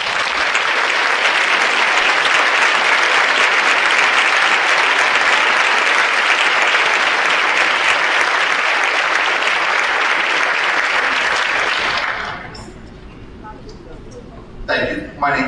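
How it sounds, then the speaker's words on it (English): A 2013 Teacher of the Year ceremony audience gives a long, loud, dense round of applause for mentoring teachers, sustained for about twelve seconds before it abruptly dies away into a quiet room with a few stray sounds. "Let's all give them a hearty round of applause."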